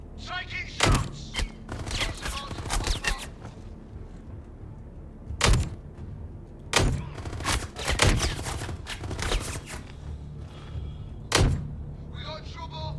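Bursts of gunfire in the video game Star Citizen, sharp shots in quick clusters and single cracks spread across the stretch, mixed with thuds and voices talking over the fight.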